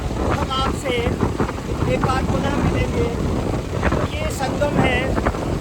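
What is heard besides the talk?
strong wind at the Kali Gandaki river confluence, Kagbeni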